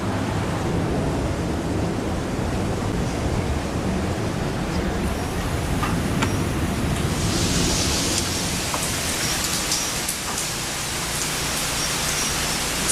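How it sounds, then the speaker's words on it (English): Rain pours and wind howls outdoors during Hurricane Irene in Virginia, a dense, steady broadband roar lasting the whole stretch with slight surges, loud and unbroken by speech. "You can hear the rain and the wind, it is still howling outside."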